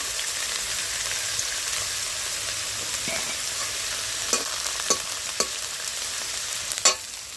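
Chopped ginger and green chilli with onion frying in hot oil, giving a steady, close hiss with a few sharp spatula clicks and scrapes toward the end.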